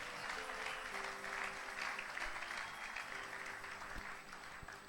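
A church congregation applauds the Lord in steady, full clapping that fills the whole stretch without pause, with no voices standing out above it.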